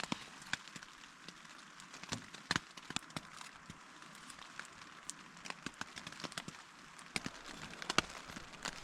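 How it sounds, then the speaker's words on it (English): Mixed sleet, rain and snow falling on a hot tent beside a frozen alpine lake, a faint steady hiss with scattered soft ticks and taps striking the fabric, no voices. "If you can hear the weather right now, it's a mixture of sleet, rain, and snow somehow."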